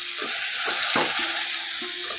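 Water splashed around okra frying in a pan for bhindi masala, giving a steady close sizzle with a few sharp crackling bursts as it hits the hot oil.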